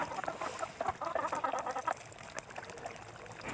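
Chickens cluck outdoors, a faint, scattered chorus of short calls over a quiet natural background, fading toward the end.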